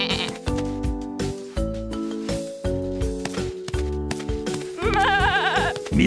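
A goat bleats in a cartoon farm game, several wavering cries over a steady bed of playful music, with the loudest, most quivering bleat near the end.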